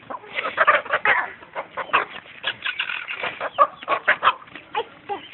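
Chickens clucking nearly nonstop with short, irregular bursts at close range, filling the whole stretch at a steady moderate level.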